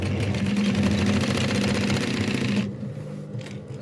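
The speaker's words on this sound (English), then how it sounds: "Then we just continue sewing and see what 4 looks like." A heavy-duty walking foot sewing machine stitching lightweight fabric runs at speed with a loud rapid mechanical clatter and a motor hum, then stops abruptly after about two and a half seconds, leaving faint handling noises.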